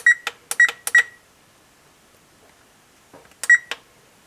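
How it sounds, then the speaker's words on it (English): An oven timer being set to three minutes gives several quick, sharp beeps close by, then a pause and a final pair of beeps. "I'm going to set the timer for 3 minutes."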